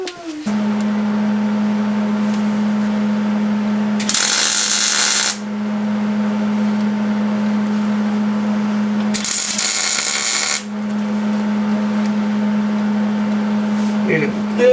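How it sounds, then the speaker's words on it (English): Two bursts of MIG welding on a Foxbody Mustang's anti-roll bar, each crackling hiss lasting about a second or so, set against a steady loud hum from nearby equipment in a garage. "Weld it quickly before something fucking moves."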